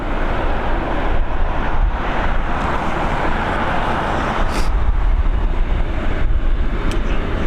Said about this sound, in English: this Boeing 737 coming in from London Gatwick.